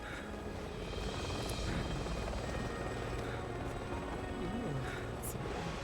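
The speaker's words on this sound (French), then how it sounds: "il y a un hélicoptère qui me tire dessus" A helicopter in the video game Resident Evil 6 firing on the player, its rotor drone steady and fairly faint under the game's background noise, with a few sharp clicks.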